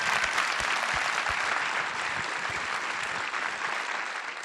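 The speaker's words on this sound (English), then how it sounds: "So let's just give them a round of applause." An audience applauds for the projectionists at a film screening, giving a steady, fairly distant burst of clapping with no voices over it.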